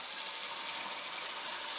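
A ratchet tightens bolts that fasten a tool mount to a workbench, a quiet, steady stream of rapid clicking close by with no talk.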